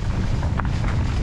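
Strong gusts buffet the microphone at the top of the Xterra mountain bike trail in the Philippines, a dense, loud rumble with one brief flutter midway and no voices.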